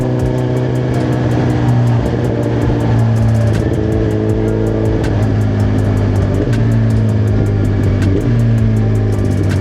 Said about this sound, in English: Ooh, downshifts is crispy.